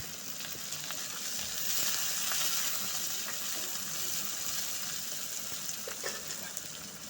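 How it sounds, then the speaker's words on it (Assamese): Onions sizzle and fry in a small amount of oil in a hot wok, a steady, fairly faint hiss with occasional soft crackles and stirring sounds, and no talking. "গৰম কেৰাহী ভালদৰে কৰি ল'ব, লৈ পিঁয়াজ দিব।"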